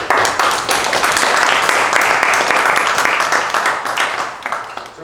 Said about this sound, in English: we clap for the person when he speaks, or when he fulfills the role